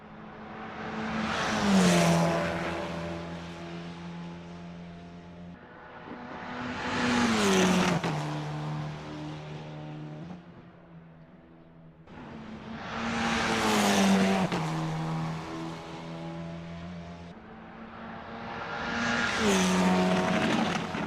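Formula 4 race cars lap Bathurst in the Assetto Corsa racing game, engines rising and falling in four repeated passes as gears shift through high revs, loud and alone with no talk.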